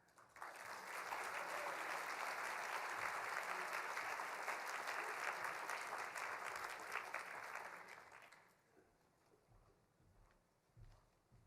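An audience applauds at a talk on genius and place, welcoming author and former NPR foreign correspondent Eric Weiner to the stage; steady dense clapping builds within a second, holds for about seven seconds, then fades to scattered claps and room noise.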